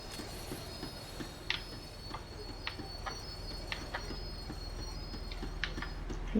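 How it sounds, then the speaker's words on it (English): A tram in Max Payne 3 rumbles along its rails as it slows, with a continuous low drone, scattered metallic clicks and squeals, and bird calls over the top. "The tram was slowing down, and I'd only just gotten on board."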